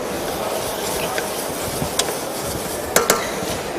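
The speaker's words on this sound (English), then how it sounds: "In goes the courgettes." Diced courgettes tipped into a hot pan, a steady frying hiss with scattered clinks and two sharp utensil knocks against the pan near the end.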